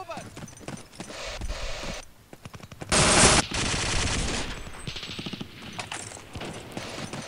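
M1 Garand rifle fire in the game Day of Defeat: loud rifle shots and clattering gunfire bursts, then a dense, sharp blast mid-way, with other shots and gameplay clatter around it.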